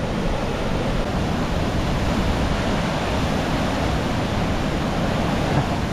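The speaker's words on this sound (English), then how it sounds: "Amazing little waterfall." Bridal Veil waterfall in Oregon's Columbia River Gorge rushes in a steady, dense, loud roar of falling water that holds unbroken for the whole stretch, with no voices over it.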